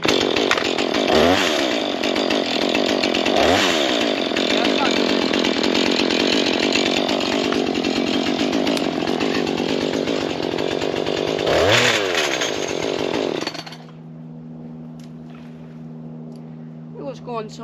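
A chainsaw cutting a tree runs loud and steady for about thirteen seconds, the engine revving in surges as it bites, then cuts out to a low idle.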